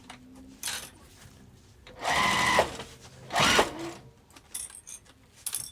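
A sewing machine back stitches a crossbody bag in two short bursts of motor whir at moderate volume, set against quiet handling noise and faint clicks.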